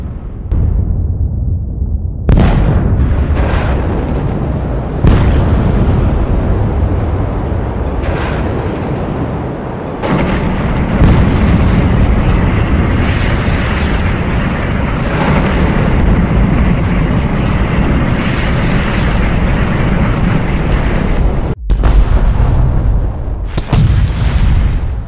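A Taiwanese Hsiung Feng III anti-ship missile strikes its target at sea, with a series of loud booming blasts followed by long roaring rumbles, and several sharp onsets spread across the span.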